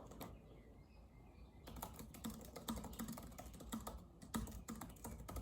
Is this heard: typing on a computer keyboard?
yes